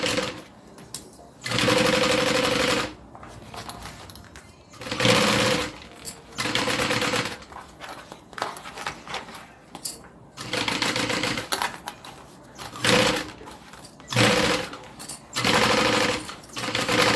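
A sewing machine stitching a zipper onto a notebook holder bag runs in loud, fast bursts of a few seconds each, separated by short pauses, close up.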